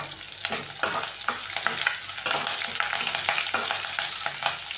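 Dry red chillies, green chillies and curry leaves fry in hot oil in a pan, a close, continuous sizzle with repeated scraping stirs, no speech heard.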